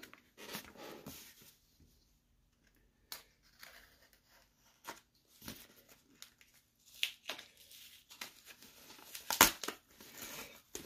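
A mystery box package of vintage baseball cards is being cut open, giving scattered crinkles, snips and rustling handling noises in irregular bursts with quiet gaps, close by and without speech.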